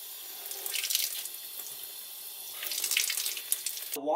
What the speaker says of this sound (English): pour some water on top of your lint screen